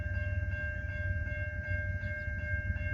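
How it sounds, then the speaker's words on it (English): A train rumbles steadily along the rails with a deep low drone and sustained tonal hums, continuous and fairly close, with no voices. "a train started to move south out of Anton's siding"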